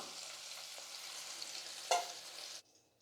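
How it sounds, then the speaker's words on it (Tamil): Okra sautés in oil in a pan, a steady quiet sizzle with a brief stir or scrape of the spatula near the end, before the frying cuts off abruptly. "நல்லா வதங்கட்டும் பாருங்கள் வெண்டைக்காய் வந்து நல்லா வதங்கிடுச்சு"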